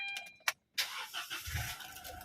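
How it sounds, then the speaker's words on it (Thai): An Isuzu D-Max 1.9 Z Highlander pickup in original condition cranks and catches quickly, its engine revving briefly and then settling into a steady idle nearby, with a short sharp click before the start. "เครื่องสตาร์ทติดปั๊บเลยนะคะ"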